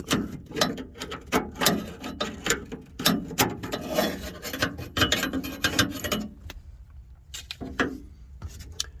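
A seized GM muscle-car-era door latch mechanism is worked by hand, giving close, loud irregular metallic clicks, ratcheting and rubbing scrapes that trail off near the end.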